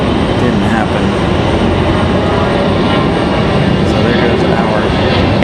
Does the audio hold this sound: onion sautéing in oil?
no